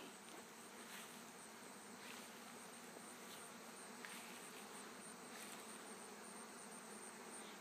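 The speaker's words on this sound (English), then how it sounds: "I wanted to show you the swarm." A dense swarm of bees after a hatch buzzes steadily and loudly throughout, a continuous high droning hum with no talking.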